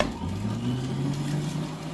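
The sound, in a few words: DSP Power Juicer running, juicing carrots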